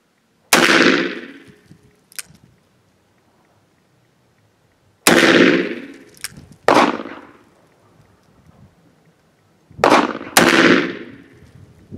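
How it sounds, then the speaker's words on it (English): Winchester .44 Magnum rounds with 240 grain bullets fired from a handgun, five loud sharp reports spaced across the stretch, two pairs in quick succession, each with a brief decaying echo and no talk. "lastly, we're going to shoot the Winchester 44 mag, 240 grain bullet"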